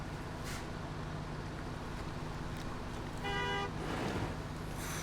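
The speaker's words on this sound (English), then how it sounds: "I love the sound cloud that emanates off the cab when you honk." Truck horn honking in the video game SnowRunner, a brief harmonic blast heard once over a steady engine drone.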